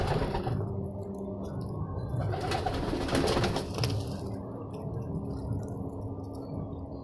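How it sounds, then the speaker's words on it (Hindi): Pigeons coo in low, soft, rolling murmurs close by, several birds overlapping with occasional rustling and fluttering. "ये हमारे कुछ कबूतर हैं"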